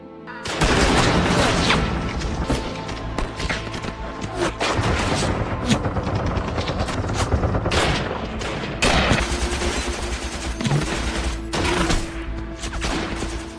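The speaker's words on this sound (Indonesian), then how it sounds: "mereka menghadangnya dengan menghujani pasukan Jerman dengan tembakan" Sustained heavy gunfire in a World War II battle between German and Polish troops, dense bursts and sharp cracks overlapping continuously, loud and chaotic like a battle in full swing.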